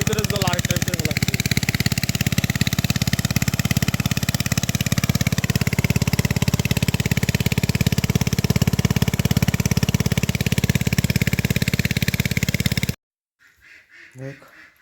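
A water pump engine runs steadily and loudly, moving water from one pond into another at a rice paddy farm, a continuous close mechanical drone that cuts off near the end.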